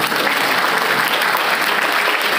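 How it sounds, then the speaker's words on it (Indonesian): Steady, dense applause from an audience at a Ramadan welcoming gathering at the Insan Cendekia Madani school. The clapping is loud and continuous throughout, with no voices rising above it. "Tepuk tangan untuk ICM hari ini juga."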